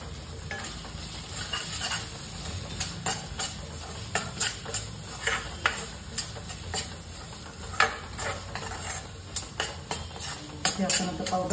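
Masala with sesame-cumin powder roasts in a pan for a spicy chicken dish, giving a steady sizzle broken by repeated sharp scrapes and clinks of a spoon stirring against the metal, close and fairly loud with no talking.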